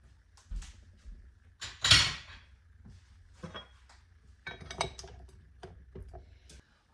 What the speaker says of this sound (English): gonna change the paddle out now